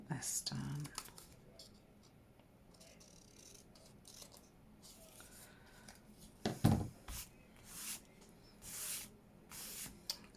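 Paper being cut with scissors for an altered book junk journal page: a few crisp snips and rustles close by, spaced irregularly, with a soft-spoken voice between them.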